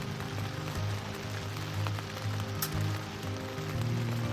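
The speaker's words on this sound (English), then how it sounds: "Hoping that this rain doesn't last too long." Steady rain patters on a surface at a winter backpacking camp along the Manistee River Trail, a continuous even hiss with a few sharper drops standing out.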